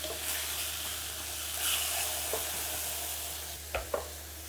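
Portobello mushrooms sizzle steadily in a pan as they are flipped, a soft continuous frying hiss broken near the end by two brief louder clatters of turning.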